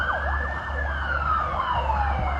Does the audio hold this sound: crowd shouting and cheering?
no